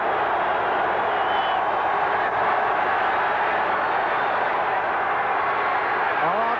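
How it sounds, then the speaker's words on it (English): A dense, steady roar from a football stadium crowd at a 1985 Washington Redskins at Pittsburgh Steelers game, urging on the Steelers defense. The noise stays loud and unbroken from start to finish. "the crowd exhorting the defense"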